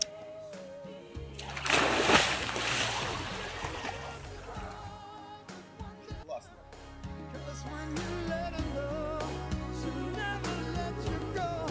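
Seawater splashes and laps at a hotel beach in Bodrum, with irregular surges of splashing close by rising and falling over the background.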